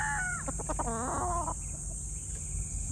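Gamecock stags at a game farm give a short burst of clucking and a brief crow-like call, close by, over a steady background hiss and hum.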